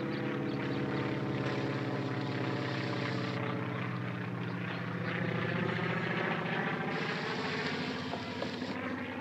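Droning propeller aircraft engine passing overhead in an old western crime drama, a continuous steady hum that swells slightly midway and then eases, heard alone without talk.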